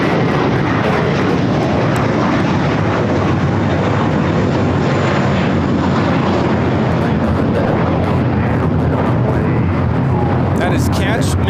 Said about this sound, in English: That is Catch Mint If You Can, taking off to JFK, JetBlue 924. It's an A321.